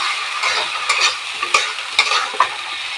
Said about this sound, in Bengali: এবার মশলাটাকে ভালো করে কষিয়ে নেব।